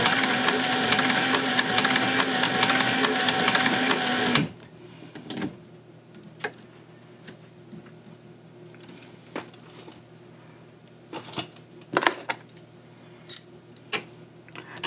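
Sewing machine stitching a gusset into a kidney bean purse, a loud, steady mechanical whir for about four seconds, then stopping, followed by quiet scattered handling clicks and taps.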